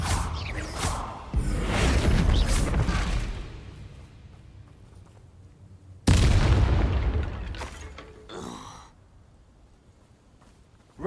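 A Bombarda spell explosion in Hogwarts Legacy: a loud booming blast with a rushing whoosh that fades, then a second sudden heavy boom rolling off into a quieter tail.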